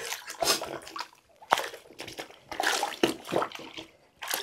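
An antique Persian wool rug being washed in a bathtub, with loud, close sloshing and splashing of water in uneven surges and brief pauses.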